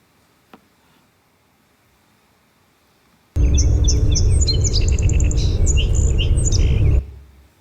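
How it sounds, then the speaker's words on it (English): Song sparrow singing a varied, bird-exposed-to-PCBs song: a close, loud burst of chirps and trills lasting several seconds after a quiet start with a single faint click. "And here is song sparrows also."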